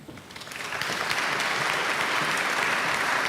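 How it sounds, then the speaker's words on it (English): Audience applause at a gala benefit evening's award presentation swells over the first second into a dense, steady clapping from a sizable crowd, continuing evenly without speech. "Applaud and presentation."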